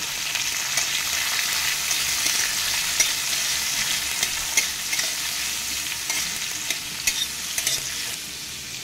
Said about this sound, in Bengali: এবার হালকা একটু নাড়াচাড়া করে নেব